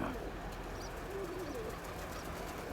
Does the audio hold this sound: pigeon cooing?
yes